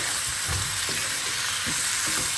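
Prawn curry being stirred in a pan, a steady sizzling fry under repeated scraping stir strokes of the spoon, close and moderately loud with no talking.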